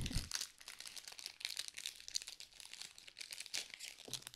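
Plastic wrapper of an amiibo card pack being torn open and crumpled, a close, continuous crinkling and tearing with sharp rustles throughout.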